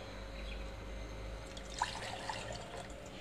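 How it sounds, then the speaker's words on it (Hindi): One cup of water is poured into a cooking pan, giving a soft, steady trickle and splash that swells slightly midway, heard close with no talking. "सबसे पहले मैंने लिया है एक पैन और उसमें मैं डालूंगी 1 कप ऑफ वाटर।"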